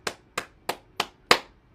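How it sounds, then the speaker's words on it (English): Five sharp hand claps, evenly spaced and close by, with the last one slightly louder and nothing else around them. "Clap your hands."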